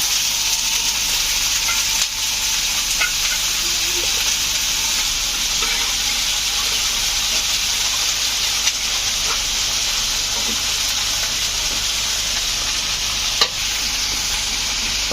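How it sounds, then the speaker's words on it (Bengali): Bitter gourd frying in very hot oil in a frying pan, a loud continuous hissing sizzle throughout with a few faint clicks. "এখন করলাগুলোকে ফ্রাই প্যানে গরম তেলের মধ্যে ছেড়ে দেওয়া হচ্ছে"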